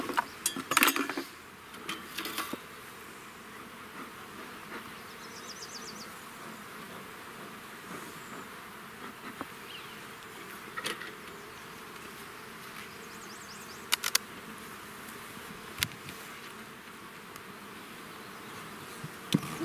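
Honey bees buzz around an opened beehive as a beekeeper works it with a smoker, a steady faint hum running throughout with a few brief sharper knocks and clinks, no talking.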